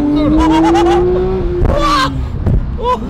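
A tuned car engine roars close by, revving hard with a rising, sustained howl before dropping off, followed by short sharp bursts of revs and a final blip.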